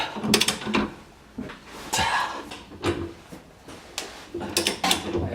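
A tool forces out a tightly pressed-in differential bushing on a Nissan 350z, producing irregular creaks, clunks and short scraping bursts separated by brief pauses, close and fairly quiet.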